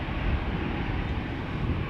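A KLM airliner departing Amsterdam Schiphol Airport, heard as a loud, steady broadband jet roar with a wind-like rush and no voices.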